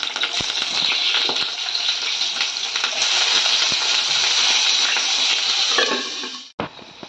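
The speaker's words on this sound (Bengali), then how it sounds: "আর আলুগুলো ভেজে নেব আগে" Potato pieces frying in hot mustard oil with a pinch of turmeric, a loud, steady sizzle that fills the whole stretch before cutting off abruptly near the end.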